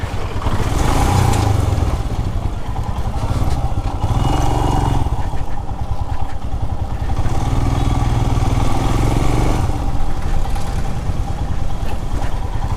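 A Royal Enfield Himalayan BS6 adventure motorcycle is ridden, its engine running with a steady, loud thumping note and mechanical clatter throughout, with no talking.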